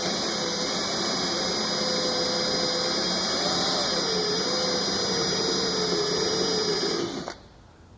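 A power drill with a spot weld bit runs continuously for about seven seconds with a steady, high, whining buzz, then cuts off abruptly near the end.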